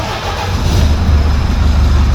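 DAF HGV truck diesel engine running steadily close by, a loud low rumble with no talk.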